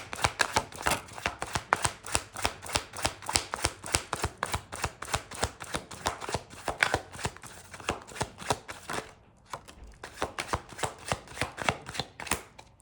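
Tarot cards shuffled in a rapid, steady riffle of crisp slaps and flicks, close and fairly loud, with a brief pause near the end before the shuffling resumes.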